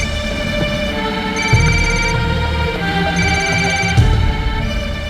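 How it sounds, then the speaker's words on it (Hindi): A mobile phone rings indoors with a repeating electronic ringtone of bright tonal bursts over a steady background hum, running for several seconds. "तुम्हारा फोन बज रहा है"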